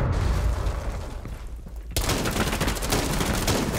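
Gunfire from Rainbow Six Siege fired through a wall, a dense burst of rapid shots that starts abruptly midway and continues loudly to the end, following a rumbling stretch of game noise.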